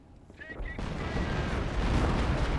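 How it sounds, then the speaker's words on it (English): Creeping artillery barrage in Company of Heroes: a dense, rolling wall of rumbling explosions swells up after a brief lull and keeps pounding steadily, loud and close. "That's a creeping barrage."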